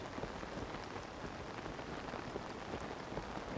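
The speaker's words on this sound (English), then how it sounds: "And it's raining." Steady rain falls in a Zelda video game, a dense, even hiss of drops pattering on surfaces that continues without a break, fairly soft and with no talking over it.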